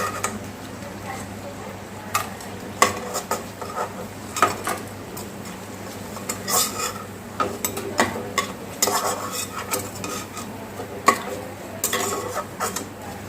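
Water lily flower fritters frying in hot oil, a steady soft crackle with sharp clinks and scrapes of a utensil against the pan scattered throughout, close and moderately loud.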